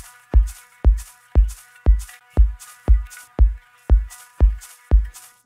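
Kick drum and shaker loop without any pre-shift: eleven steady, evenly spaced booming thumps, each topped by a brief airy shaker rattle, looping close and dry with no voice.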